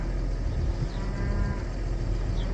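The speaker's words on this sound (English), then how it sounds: "3 cows or 4 cows in this corral yet to calve" Cattle in a corral holding cows yet to calve moo over a low, constant rumble, with a drawn-out lowing call rising above the steady background noise.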